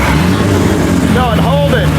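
A cheap Kustom car's engine runs loud and close with a steady droning hum while its ignition timing is checked, and voices talk over it.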